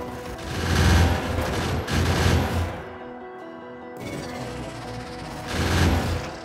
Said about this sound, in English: Just look how fast the gun turrets can take down behemoth biters now.